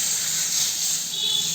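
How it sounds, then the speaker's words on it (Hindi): Hot tadka tempering with Kashmiri red chili hits a pot of kadhi, giving a steady, loud hissing sizzle that holds for the short moment without pause. "तड़का हम इस पे अप्लाई कर देंगे।"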